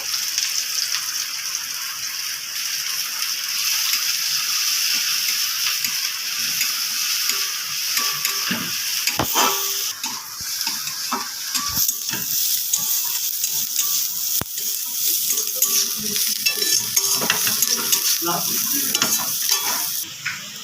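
Chopped onion sizzling steadily in a hot pan and stirred throughout, with intermittent scraping clatters and a few sharp utensil knocks over a continuous crackle.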